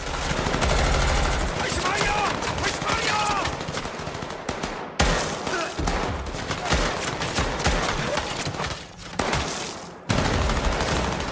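Heavy rapid gunfire rattles almost nonstop in dense bursts, loud and close, with a voice speaking underneath and brief gaps between volleys.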